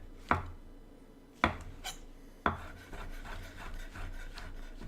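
A knife slices through mushrooms on a cutting board, three distinct sharp cuts about a second apart, followed by softer rubbing and scraping.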